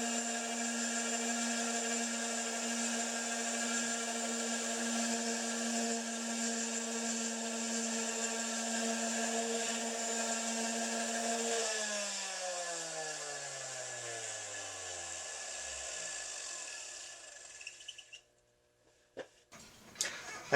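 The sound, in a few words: sanding a wooden board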